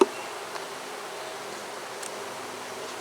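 Honey bees from an old, unmanaged feral hive hum in a steady, faint, continuous drone, with light rustling and no voices.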